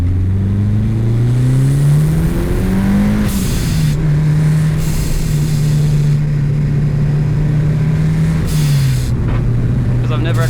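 Turbocharged 4G63 engine in a Mitsubishi Evo 6 making about 260 kW, droning loudly through the cabin on a mountain road as revs climb and settle, with sharp bursts of turbo hiss along the way.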